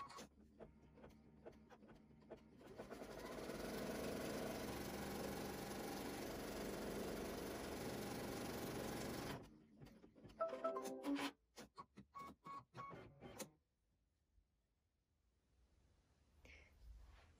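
A home embroidery machine stitches quilt backing fabric onto stabilizer in a 4 x 4 hoop, a steady mechanical whir and rattle running for several seconds, then stopping into short bursts of clicks and trimming noises before going quiet.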